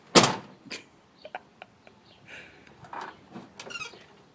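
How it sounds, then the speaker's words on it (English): A semi truck cab door shuts with a sharp close slam at the start, followed by scattered squeaks, clicks and rustles as someone settles into the seat. "closing the door."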